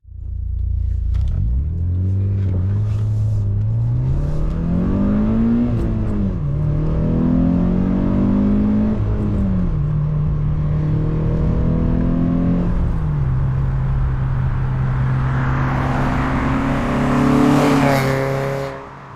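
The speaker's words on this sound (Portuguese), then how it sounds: "E eu sei que esses carros são verdadeiros monstros de giro. Eles adoram subir o giro." Citroën Saxo VTS petrol engine with a sports exhaust revving hard and climbing through the rev range in repeated pulls, loud and close, with a raspy rising roar and no talking.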